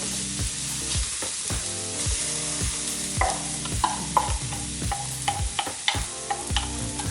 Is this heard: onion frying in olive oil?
yes